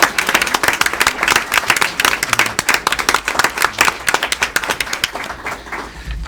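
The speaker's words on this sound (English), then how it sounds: "if we could give her a huge round of applause" A school deliberative meeting crowd applauds a retiring superintendent, a dense, even clapping from many hands, loud and close, that continues for about six seconds before tapering off.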